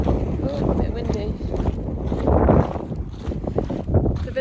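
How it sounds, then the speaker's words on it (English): Strong wind gusting outdoors in a small New Zealand village, loud and buffeting against the microphone throughout, with people talking over it. "Oh, a bit windy."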